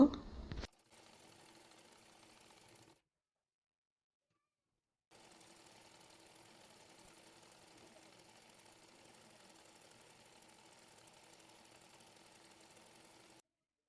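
A sewing machine stitches the seams of a kameez, a quiet, steady mechanical whir that runs in two stretches separated by a silent pause, faint and close, with a brief louder knock at the start.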